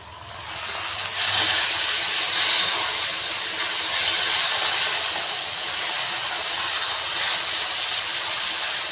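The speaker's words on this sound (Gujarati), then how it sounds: "ટમેટાને આપણે 1 મિનિટ સાતળીએ।" Two chopped tomatoes are sautéed in a pan with a cooked spice paste, giving a loud, steady sizzling hiss that rises at the start and then holds evenly, with no talk over it.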